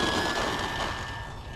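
Electric RC model airplane motor whining steadily at full throttle during its maiden flight takeoff, a constant high tone over broad rushing air noise, close and loud throughout.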